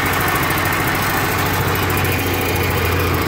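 A Murray lawn tractor engine runs at a steady idle, a loud, close, rough drone with a rapid rhythmic chug throughout and no one speaking.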